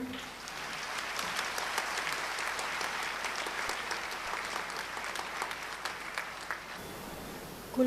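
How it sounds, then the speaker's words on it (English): Sustained, dense applause from a large audience at a University of Colombo Faculty of Science convocation in 2011. It holds steady and fairly loud for about eight seconds, with no voices on top. "Can we have a round of applause to all of them?"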